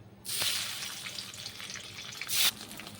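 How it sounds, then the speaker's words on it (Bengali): Fish slid into hot oil in a pan, a sudden loud sizzle that holds as a steady crackling hiss, with a second sharp burst of spitting near the end. "তো গরম তেলে মাছগুলো আমি দিয়ে দিচ্ছি।"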